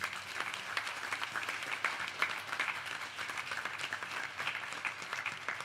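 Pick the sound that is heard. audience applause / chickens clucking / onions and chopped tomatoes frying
audience applause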